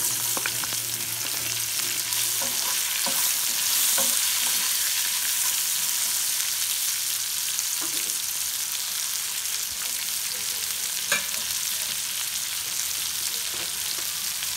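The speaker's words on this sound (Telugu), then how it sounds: "ఇప్పుడు ఆనియన్స్ పచ్చిమిరపకాయలు యాడ్ చేసుకుంటున్నాము." Onions and green chillies frying in a pan for an Andhra-style broad bean curry, a steady close hiss of sizzling oil with occasional soft stirring clicks, continuous and alone without any voices.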